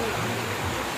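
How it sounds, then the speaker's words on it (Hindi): Heavy rain pours with water rushing downhill at Kedarnath during a thunderstorm, a steady dense roar of broadband noise that stays loud and close for the whole second, with no voices on top. "केदारनाथ में जोरदार बारिश बिजली की गरजना के साथ"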